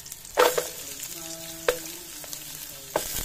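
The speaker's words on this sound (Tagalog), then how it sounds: "Mix natin guys luya." Ginger stirred in a pot over a wood fire for Filipino chicken tinola, a soft continuous sizzle broken by three sharp scrapes and clinks of the spoon against the pot.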